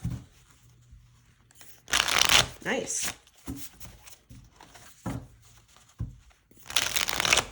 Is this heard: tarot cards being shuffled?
yes